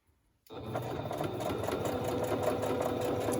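A sewing machine starts up abruptly after a brief silence and runs a steady straight stitch, a fast continuous mechanical whir and patter heard close and alone.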